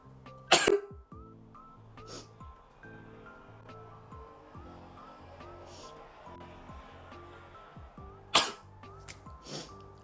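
Two loud sneezes from a person after drinking hot coffee, one near the start and one near the end, over a soft steady background of tonal music.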